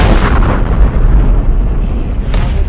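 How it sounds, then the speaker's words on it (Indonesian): A loud, deep explosive blast rolls out into a long rumbling roar, close and heavy, with a brief sharp crack toward the end. "Ada bom baru meledak."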